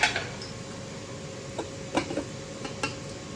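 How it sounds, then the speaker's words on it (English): A spoon scrapes and taps against a bowl while spices are stirred together, giving a few scattered clinks over a quiet background. "I'm just now gonna mix up the spices."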